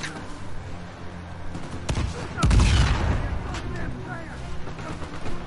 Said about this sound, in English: Alright, my dude. You can stop shooting.